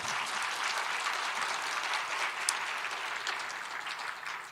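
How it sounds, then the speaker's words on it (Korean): Church audience breaks into sustained applause during a sermon, a dense, even wash of many hands clapping at a distance, steady throughout without speech. "박수 쳐, 빨리 박수 쳐."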